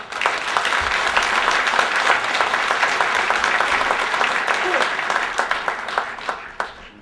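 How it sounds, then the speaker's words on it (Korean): Sustained applause from a large crowd, dense and steady for several seconds with a few louder individual claps standing out. "막으로 물러나시는 양경민 위원장님과 문명순 수석부위원장님, 집행부 간부 동지들께 우리 대의원 동지들 큰 격려의 박수 부탁드리겠습니다."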